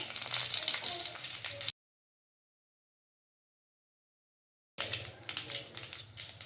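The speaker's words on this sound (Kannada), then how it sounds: "ಹಾಗೆ ಒಗ್ಗರಣೆಗೆ ಮೂರು ಮೆಣಸಿನ್ಕಾಯಿ ಒಣ ಮೆಣಸಿನ್ಕಾಯಿ ಹಾಕ್ಕೊತಿದ್ದೀನಿ" Three dry red chillies crackle and sizzle in hot oil for a tempering, a bright hissing fry heard in two bursts separated by a stretch of silence.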